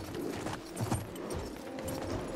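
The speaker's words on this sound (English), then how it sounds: "I just got on my horse." Horse hooves galloping in the video game Battlefield 1, a steady, rapid clip-clop at moderate volume over a busy in-game background.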